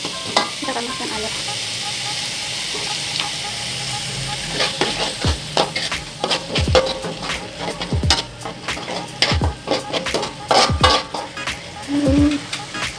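Water hits frying sambal pete Bugis in a pan, setting off loud sizzling while a utensil scrapes and stirs in repeated uneven strokes close by.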